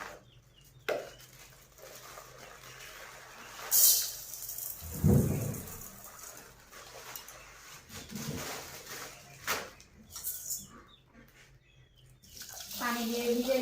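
Tap water runs into a container to soak lentils for lentil fritters in a village kitchen, a brief splashing burst midway amid quiet clatter and faint background sounds.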